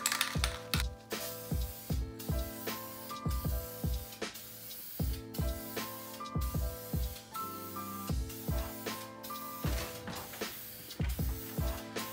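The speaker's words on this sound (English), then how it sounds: "You need to spray across, stop, across, stop, across, stop." Short repeated bursts of spray paint hit car headlights in a stop-and-go rhythm across the lens. Each hiss ends in a rattle and click from the can, and the bursts come in close succession.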